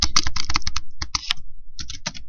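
Code being typed on a computer keyboard while writing a short Python program: bursts of quick, close key clicks with brief pauses between runs, no voices.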